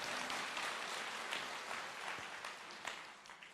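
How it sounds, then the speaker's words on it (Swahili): A large crowd claps steadily for President Ruto at a public gathering in Kiambu, Kenya, a dense, continuous wash of applause with a few sharper swells and no talking. "Situmpigia rais makofi."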